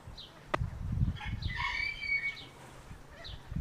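Chickens cluck around a rural yard, soft repeated calls and a brief sharp note rising over low rustling and faint background noise.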